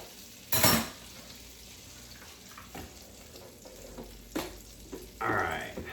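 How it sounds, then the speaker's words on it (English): Butter sizzling in an electric skillet over leftover bacon grease, a quiet steady frying hiss broken by a few clinks and scrapes of a utensil against the pan. "put about a heaping spoon of butter in the electric skillet"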